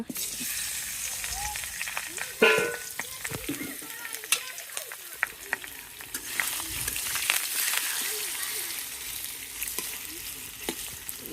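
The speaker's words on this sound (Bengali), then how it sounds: "যে তেল গরম হয়ে গেছে এখন মাছ দিয়া দিব" Fish fries in hot oil with a steady close sizzle and scattered crackles and pops, a sharp burst near the start, while someone talks intermittently over it.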